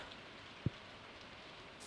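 Soft, steady rain hisses throughout from a video game, with one brief dull thud early on.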